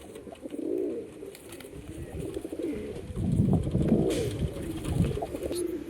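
Male single pigeons of the Madras black-eyed type cooing in low, rounded bursts, several overlapping calls swelling and fading near the listener with faint background noise.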